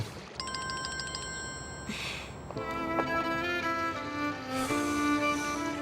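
A telephone rings close by: a rapid electronic trill of bright pulses, then a melodic ringtone plays on steadily, with no talking.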